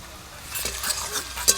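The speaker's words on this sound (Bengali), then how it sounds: "এটা নাড়ো একটু" Spicy crab curry being stirred in a pan, with a few scraping strokes over a soft, steady sizzle, close and fairly quiet.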